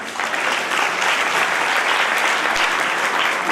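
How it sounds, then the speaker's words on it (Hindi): Steady applause from a large audience at an Arya youth council foundation day gathering, dense continuous clapping with no gaps, loud and sustained throughout. "यदि सहमत है तो तालियां बजा दो"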